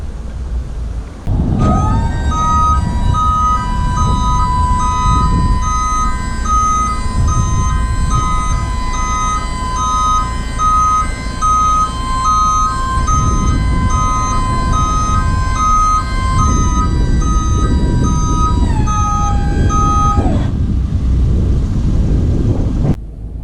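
The tipper body of a 2016 Ford Transit medium-wheelbase tipper truck operates with a loud, steady, high hydraulic whine lasting nearly twenty seconds over a low engine rumble, then the whine dips in pitch and cuts off.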